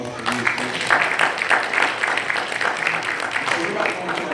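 An audience at a talk breaks into steady, dense applause that holds at an even level throughout, with scattered voices mixed in among the clapping.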